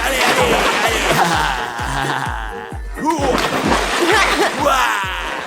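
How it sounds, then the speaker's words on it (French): Repeated loud splashes of people jumping into a backyard swimming pool at a party, several big splatters in steady succession with brief laughter between them. "Regardez la piscine de Dimon. On va se baigner."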